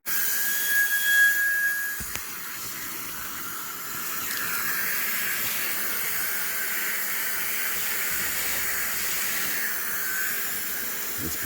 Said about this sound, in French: L'aspirateur commence à fatiguer après 3 heures de boulot.